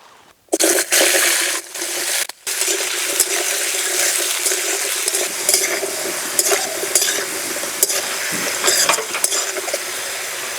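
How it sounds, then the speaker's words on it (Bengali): Potatoes frying in hot oil in a pan, a steady loud hiss and sizzle with intermittent clatter of stirring and a few sharp breaks, close by with no talk. "আলু ভেজে নেব।"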